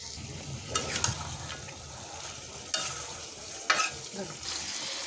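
Duck meat with onion and spices being stir-fried in a pan, a steady sizzle broken by a few sharp scraping stirs near the start, middle and end.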